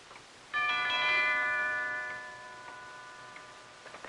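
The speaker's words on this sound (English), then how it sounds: "He just rang the bell again and then stood there." A doorbell in a 1951 film noir rings once with a sustained bell tone that swells, holds and slowly fades over about two seconds against a quiet room, with no speech.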